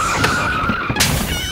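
A bus braking hard in a comedy skit, rendered as a loud tire-skid squeal that holds for about a second and then cuts off in a burst of noise, with no talk over it.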